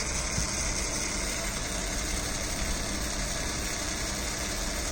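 A small motor switched on by a Raspberry Pi vehicle ignition setup runs with a steady, even hum and faint vibration, unchanging and close throughout with no voices.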